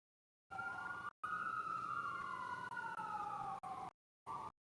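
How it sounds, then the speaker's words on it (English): Emergency vehicle sirens are picked up by a microphone, a wailing, slowly falling tone that drops in and out in choppy bursts as the mic gates on and off, fairly faint and without speech. "now it's picking up all the sirens."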